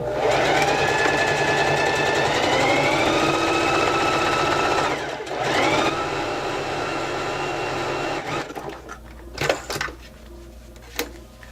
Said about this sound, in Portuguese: Vai costurar aqui agora, vamos fechar a nossa peça no ponto flexível.